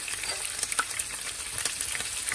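Curry leaves and green chillies crackle and sizzle in hot oil nearby, a dense, steady frying hiss with small pops throughout and no voices.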